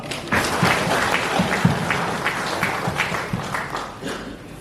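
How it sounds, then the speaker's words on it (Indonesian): A church congregation at a synod meeting opening applauds, a dense wash of many hands clapping at moderate loudness in a large room, slowly thinning toward the end. "Mari kita tepuk tangan buat Tuhan."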